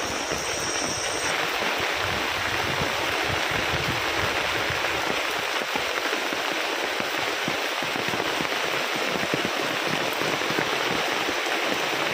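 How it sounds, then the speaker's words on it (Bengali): Heavy rain with stormy wind at night pours down in a dense, constant hiss that stays loud and unbroken throughout. "সারাক্ষণ বৃষ্টি হতেই আছে বিকেল থেকে।"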